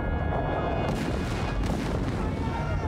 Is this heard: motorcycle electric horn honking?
no